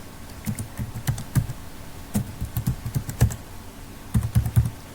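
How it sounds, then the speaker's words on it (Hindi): A password is typed on a computer keyboard in quick, uneven clusters of close, crisp key clicks with brief pauses between bursts. "पासवर्ड में मैं यहाँ पे टाइप कर देता हूँ"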